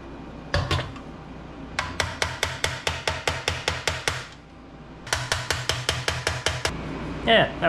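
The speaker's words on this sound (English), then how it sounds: "Just hit a screwdriver in there on the side you wanted to bring up." A hammer strikes a screwdriver wedged against a 1936 Ford Roadster body panel to raise a dent, two bursts of rapid, evenly spaced metallic taps, about a dozen each, close and ringing, with a brief pause between.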